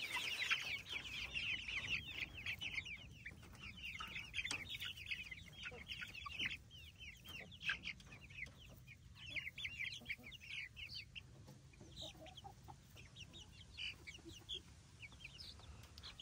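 A flock of chickens clucking and chattering continuously nearby, busy overlapping calls with occasional louder squawks.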